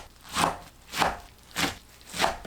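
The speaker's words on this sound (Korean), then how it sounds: "뭉쳐있는 유채를 풀어서 3cm 간격으로 썰어주세요." Rapeseed greens are cut with a knife on a board, four evenly spaced, firm chops about half a second apart, close and clear with no talk.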